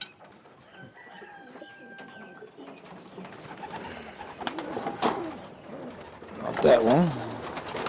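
Racing pigeons in a loft coo and flutter amid general bird chatter, with people talking nearby over the birds and some clattering; a louder burst of bird calls rises near the end.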